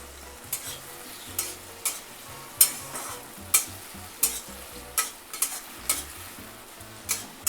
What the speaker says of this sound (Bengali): এবার আমি ভালো করে আদা আর টমেটোটাকে মিশিয়ে নেব।